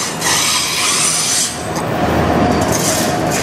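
A CN freight train rolls in from a distance through Sarnia, Ontario, a steady broad rumble of wheels and cars with faint metallic squeal, loud and continuous.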